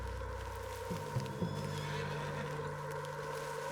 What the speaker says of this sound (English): What's got this horse spook, huh?